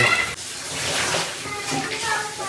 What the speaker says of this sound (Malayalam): വെള്ളം തുറന്ന സൗണ്ട്